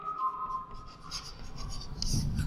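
Pen scratching across paper while a class 10 mathematics lesson on polynomials is written out, a soft continuous rasp of strokes close to the mic, with no talk over it.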